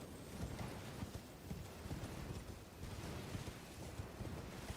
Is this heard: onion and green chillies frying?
no